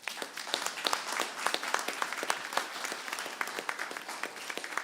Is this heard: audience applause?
yes